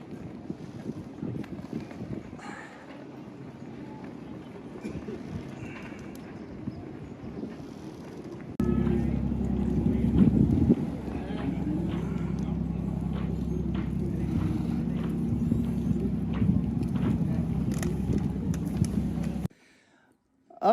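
Boat engine rumbling steadily as a vessel carrying tourists arrives in Hydra harbour, Greece, with wind buffeting the microphone; the low drone grows louder and closer partway through, then cuts off near the end.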